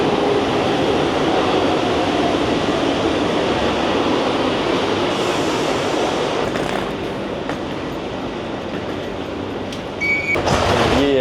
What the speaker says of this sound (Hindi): ये है भाई इनकी मेट्रो